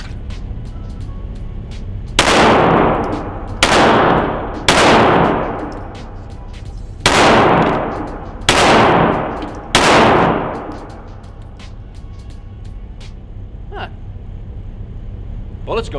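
A Glock 48 pistol fired six times at a range, loud sharp cracks spaced about a second or two apart with ringing decays, followed by quieter background noise and faint clinks.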